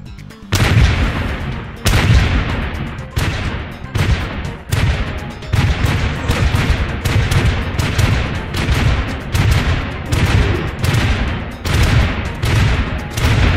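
Doom Peashooter plants fire in Plants vs Zombies, a loud rapid volley of booming shots repeating in regular bursts for several seconds, with no talking.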